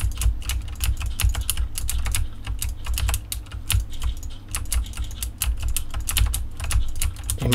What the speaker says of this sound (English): You might hear a lot of clicking,